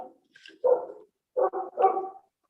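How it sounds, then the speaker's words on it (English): Several dogs bark in short bursts, a few sharp barks spaced across a couple of seconds at moderate distance, with no talking over them. "some dogs bark"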